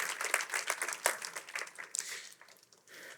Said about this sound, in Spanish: El Señor se merece esos aplausos